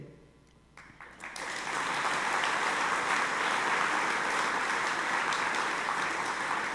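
After a quiet start, applause from a seated audience at a Rough Riders Roundup honoring event swells quickly and holds as a dense, even roar of clapping.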